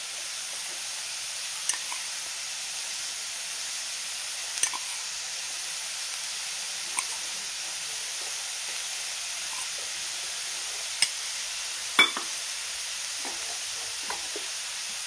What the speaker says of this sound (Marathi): आता आपल्याला हे गरम केलेलं तूप आहे ते आपण साईडने सोडूया.